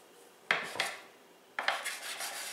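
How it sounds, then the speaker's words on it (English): A bench scraper strikes down through bread dough for challah twice, each cut a sharp scraping clack against the work surface, close and fairly quiet. "where's my bench scraper? going to cut this dough in half"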